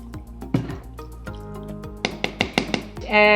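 A cup of cold water goes into a salt dough mix, heard as a run of close drips, splashes and wet knocks, busier toward the end and closing on a brief sustained pour.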